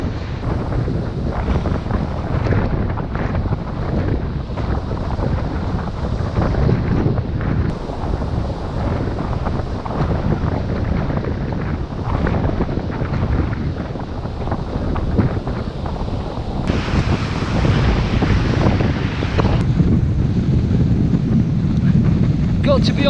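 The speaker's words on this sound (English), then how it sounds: "It's really quite windy." Strong wind from a building storm roars and buffets the microphone nonstop, with surf and water churning underneath.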